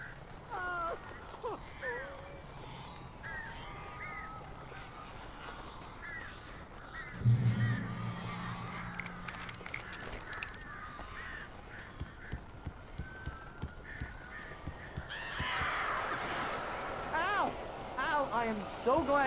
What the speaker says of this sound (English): These birds are weird.